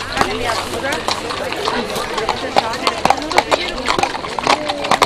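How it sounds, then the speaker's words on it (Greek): Horses clip-clop along in a church procession for the feast of Saint George at Nafplio, hooves striking in an uneven stream of close, sharp knocks under a crowd murmur and someone talking. "Και αυτή η περιφορά τώρα με τα άλογα."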